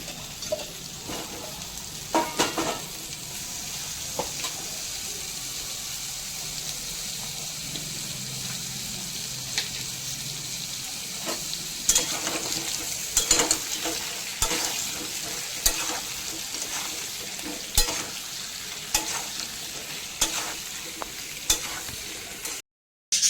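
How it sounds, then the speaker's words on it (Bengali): Potato pieces frying in a pan for Kashmiri aloo dum, a constant soft sizzle running throughout with intermittent clinks and scrapes as they are stirred, no voices heard. "ওদিকে আলুগুলো ভাজা হচ্ছে, মাঝে মাঝে ঢাকা খুলে নাড়াচাড়া করে দিচ্ছি।"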